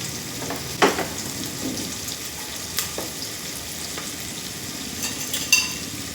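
Ginger and garlic frying in a pan for chicken, prawn and egg biryani: a continuous sizzle punctuated by a few clanking stirs against the pan.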